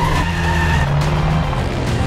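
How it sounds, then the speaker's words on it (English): The Volvo Iron Knight record-breaking truck speeds past on a run, giving a loud, continuous roar with a rushing, tire-like hiss that shifts pitch as it goes by, with no talk over it. "Just below us is probably a new FIA world record breaking truck."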